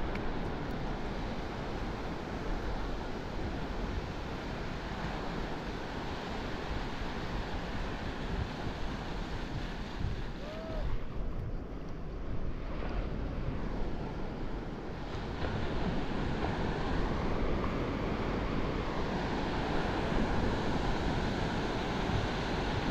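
Ocean waves breaking steadily on a shoreline where someone is fishing with a light setup, a continuous broad wash of surf with wind buffeting the microphone, no talking.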